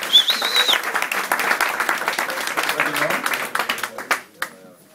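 Audience applause for football coach John van den Brom, a burst of clapping from a crowd that fades toward the end, with talking mixed in and a brief whistle near the start.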